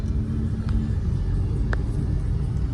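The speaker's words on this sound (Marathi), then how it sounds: "फुल ट्रॅफिक आहे." Heavy road traffic makes a constant low rumble of car engines, loud and steady, with faint higher engine whine on top.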